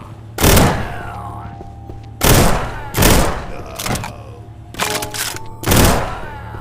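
Loud gunshot blasts from a weapon in a VR zombie shooter game, about six sharp reports at irregular intervals, each ringing out briefly over a low steady in-game hum.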